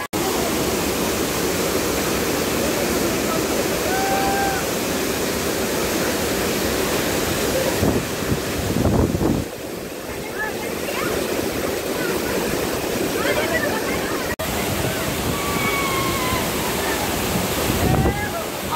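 Mangeli waterfall in the Konkan monsoon pours with a steady, loud broadband roar that fills the whole stretch, rising briefly in a few bursts, with wind buffeting the microphone.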